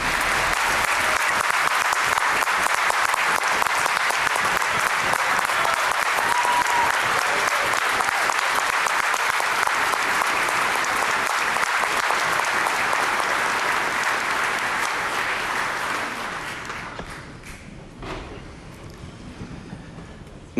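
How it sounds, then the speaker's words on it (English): Audience applause at a Mississippi governor's inauguration: a loud, sustained ovation of dense clapping lasting about fifteen seconds, then fading to sparse scattered claps. "No surprise, she gets the largest applause of the day."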